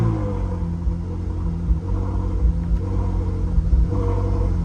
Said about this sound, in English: The car's been started a few times, but you can hear it's warming up.